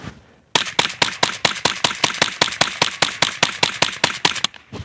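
A .22LR rifle fires a rapid string of about twenty sharp, evenly spaced shots outdoors after a brief quiet moment, loud and close, with no talking.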